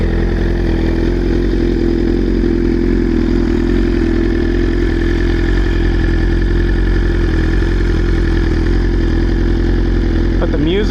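A BMW S1000RR sport motorcycle engine runs steadily close by, a loud continuous mechanical rumble with little change in pitch and a slight shift right at the end.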